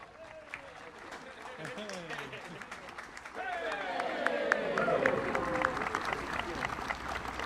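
An outdoor concert audience applauds the band's director, the clapping rising and thickening partway through, with bird calls and a few voices threaded over the sustained crowd noise.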